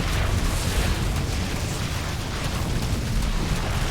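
A cannon structure is destroyed amid battle in StarCraft II, with a loud, continuous wall of explosive bursts and rumbling blasts that fills the whole stretch without letup.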